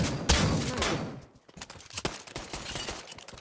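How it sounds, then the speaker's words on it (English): Shotgun fire in the VR shooter Pavlov, a loud opening blast followed by a rapid scatter of sharper distant shots and clatter, rhythmic bursts tapering off. "Bro, that was definitely a shotgun snipe"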